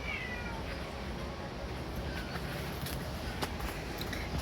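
Pichou, a Bengal cat, meows faintly within a steady, noisy indoor background, the calls brief and partly masked, with a few light knocks and taps around them.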